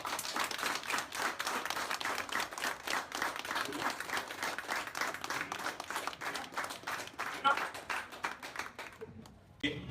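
An audience at a Mother's Day event in northern Haiti claps loudly and continuously in dense applause that fades toward the end.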